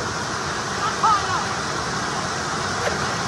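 A cold mountain stream flows steadily in the open air on a bike trip to Kashmir, a constant broadband rush with a brief faint voice-like chirp partway through.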